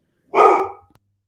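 A single sharp dog bark rings out close and loud, followed by a short tail of quiet rustling, heard on its own without talk.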